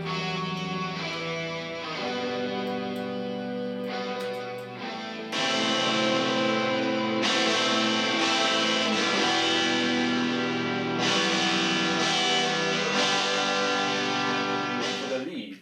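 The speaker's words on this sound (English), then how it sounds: "another guitar joins on the left." Distorted electric guitar plays layered riffs, building fuller and louder partway through, with sustained gritty chords.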